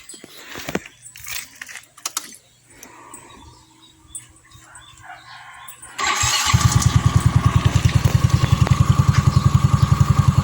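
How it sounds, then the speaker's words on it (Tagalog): Keys jingle and a dog barks before a Yamaha Mio i 125 scooter engine cranks and catches, settling into a loud, steady rapid putter. "start natin para marinig nyo rin yung engine niya"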